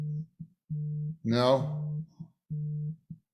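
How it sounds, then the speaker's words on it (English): A mobile phone vibrates against a tabletop, giving close, fairly loud bursts of low buzzing, each about half a second long, repeating in a steady on-off pattern with short gaps. A voice briefly speaks a single word over one burst. "do you have your phone buzzing?"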